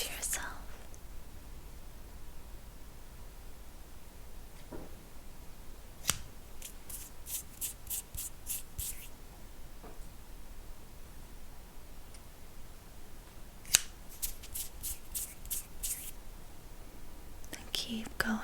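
Scissors snip through a cord in a soft ASMR setting, a few quick, crisp metallic cuts in short bursts against a quiet hiss, with whispered speech around them.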